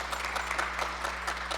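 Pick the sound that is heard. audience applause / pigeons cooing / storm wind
audience applause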